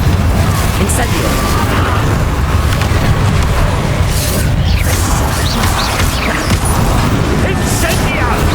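Relentless spell blasts, booms and crashes from Hogwarts Legacy combat, a loud, dense barrage with no break throughout.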